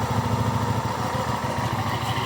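A 2015 Hyosung ST7 700i motorcycle with about 2,500 km on it idles steadily close by, with a loud, even engine throb and no pauses.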